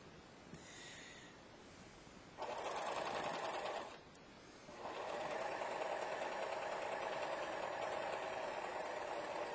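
A serger stitches a flatlock seam into fabric, its motor whirring loudly in two sustained bursts separated by a short pause, running alone with no talk.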